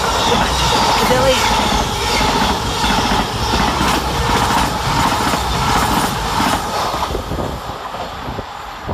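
Two CrossCountry diesel units, 221129 and 220031, pass through Sandwell and Dudley station on the Reading to Manchester Piccadilly run, a loud sustained rumble with rail noise that fades slightly toward the end.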